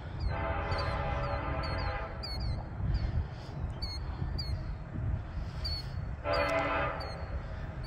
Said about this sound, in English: Look down, I got some train action on the CSX line.